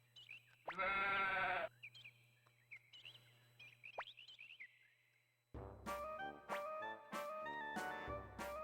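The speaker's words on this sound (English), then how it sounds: "I think usually you just need to find the free sheep here and capture him." A single loud, close bleat from a sheep in the video game Suikoden II, followed by faint game chimes and then a bright, melodic run of game music.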